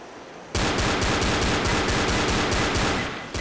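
Sustained automatic gunfire from Left 4 Dead, a rapid, loud, evenly spaced burst of shots that starts abruptly and runs for about three seconds with no talk over it.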